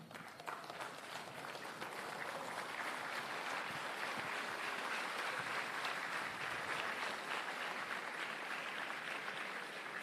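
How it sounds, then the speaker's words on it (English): Broad, sustained applause from a large audience at a college of engineering graduation ceremony, an even wash of clapping at moderate distance holding steady throughout, no talk over it. "give a big round of applause to Sir"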